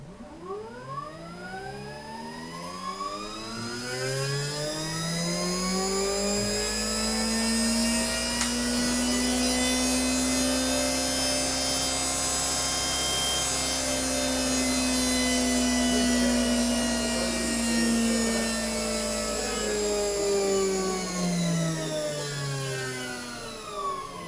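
An electric motor driven by a test motor controller built for a competition spins up, holds a steady high whine with many layered harmonic tones, then winds back down over about twenty seconds, fairly loud and with no talk.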